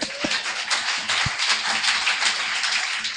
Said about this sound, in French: Acclamons pour le frère Gérard.